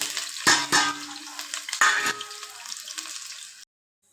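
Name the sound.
onions frying in a pan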